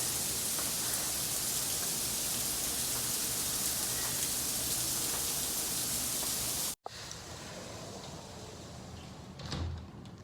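Heavy rain pours down in a dense, steady hiss. After an abrupt cut it continues more softly, with a door-like knock near the end.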